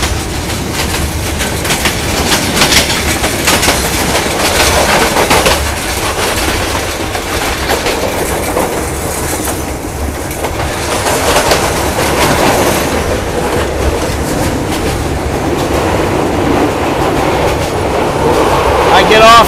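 Loud, constant rumble and clatter inside a moving train in Myanmar, with rhythmic clickety-clack of wheels on the rails filling the space.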